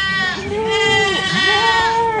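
Several goats bleat in long wavering cries, close and loud, over a farm-yard setting where goats are being judged for udder size and build, with a voice speaking underneath.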